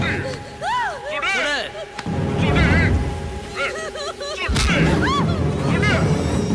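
Gunfire in a Tamil action film scene: a few sharp, loud bursts ring out over a dense backdrop of dramatic music and voices.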